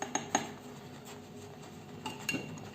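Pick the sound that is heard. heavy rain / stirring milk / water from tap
stirring milk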